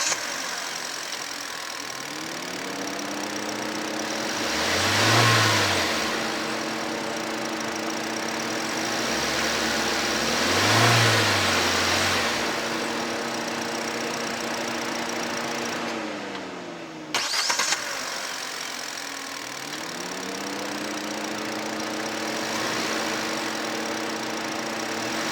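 2024 Hyundai i20 Sportz petrol engine revving twice, shutting off, then starting again and settling into a smooth idle, its rising and falling pitch close and clear with no speech.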